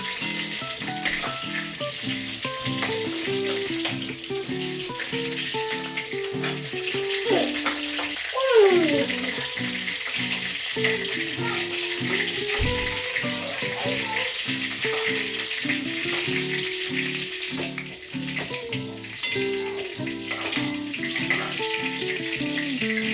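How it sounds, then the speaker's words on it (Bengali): Steady, loud sizzling of chicken deep-frying in oil, with occasional clinks and stirring noises as pieces are moved and lifted out; a voice talks over it. "ভাজা হয়ে গেছে, আমি এক এক করে এবারে উঠিয়ে নিচ্ছি।"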